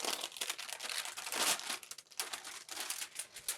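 Parchment paper peeled up from fused fabric applique on an art quilt, producing dense crackling and crinkling in bursts with brief pauses, close and fairly quiet, with no voices.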